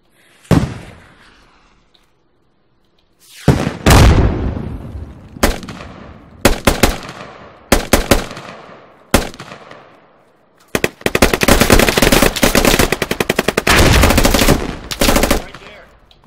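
Bursts of automatic rifle fire and single gunshots from the military shooter game Squad, near and loud, in several volleys separated by brief gaps, ending in a long sustained stretch of rapid fire.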